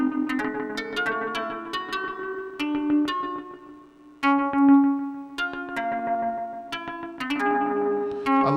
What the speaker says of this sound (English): I love these sort of super non-traditional synthesizer sounds.